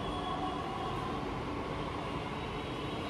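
A Delhi Metro Blue Line train at the Noida City Center station platform gives a steady, loud rumble and rush of wheels and motors that fills the whole stretch without a break.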